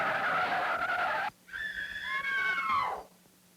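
A car brakes hard from 30 mph, tires squealing in a long, loud skid that rises and wavers for about a second and a half before stopping, following a stretch of engine and road noise.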